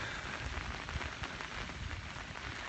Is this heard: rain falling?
yes